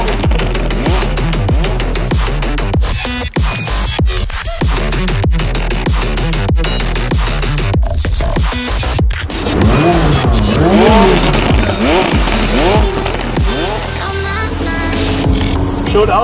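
A McLaren 600LT sports car drives hard, its engine roaring loudly up and down through the revs with repeated rising sweeps and brief shift breaks, close and continuous, with tire noise underneath.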